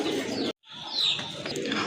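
Large pigeons kept for sale coo softly nearby in a brief series of low calls, with a short break partway through and some light chirping mixed in.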